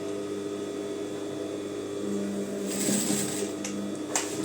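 A sewing machine stitches trousers with a steady mechanical whirr, joined partway through by a faster, brighter run of stitching and a few clicks, all close by.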